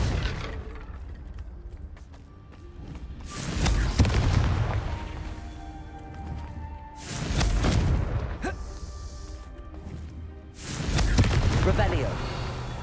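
Confringo, an explosive fire spell cast in Hogwarts Legacy, bursting in three loud booming blasts spaced a few seconds apart, each with a roaring rumble that fades, amid game noise and voices.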